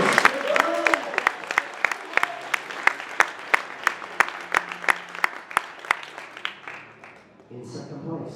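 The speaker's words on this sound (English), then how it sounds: "Give him a round of applause." A crowd gives a round of applause to the third-place finisher at a tournament, with dense clapping and sharp individual claps over about seven seconds, then fading as a voice begins.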